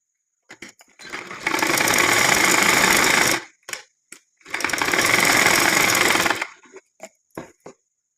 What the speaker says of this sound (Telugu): వీటిని ఒకదానిపైన ఒకటి ఇలా పెట్టి స్టిచ్ చేయాలి.